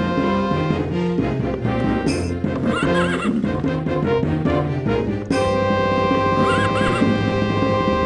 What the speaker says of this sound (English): We're going by horse.